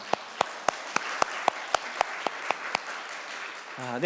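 A church congregation at an air force base Easter Sunday service applauds. A steady rhythmic clap rings out about every quarter second over a soft wash of crowd clapping, and a voice comes in at the end.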